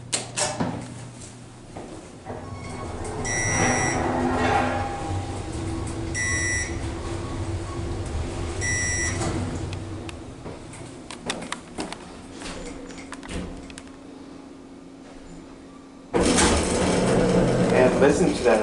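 An Otis bottom-drive DC elevator motor in a hospital wing runs with a low steady hum and whine, with a few beeps and clunks along the way, then surges louder near the end as it changes direction.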